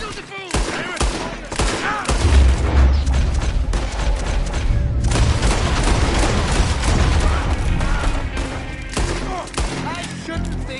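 Rapid bursts of gunfire in Red Dead Redemption 2, loud and dense across the whole span, with heavy booming shots layered over one another and a few voices under the shooting.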